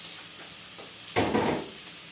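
Tomatoes dropped into a pan of browned garlic frying for a tilapia sarciado, giving a sudden loud burst of sizzling that swells for about a second, then settles back to a low hiss.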